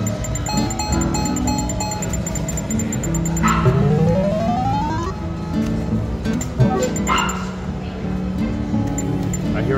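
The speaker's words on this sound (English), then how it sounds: "I hear a dog." A dog barks and yips amid a busy background of electronic video poker machine tones and chiming music, with a voice partly audible underneath.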